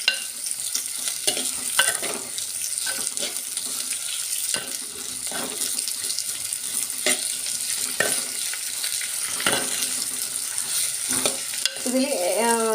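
Two medium onions sizzle in a hot pan while a utensil stirs and scrapes through them, with steady frying hiss and intermittent clanks, a brief voice at the very end.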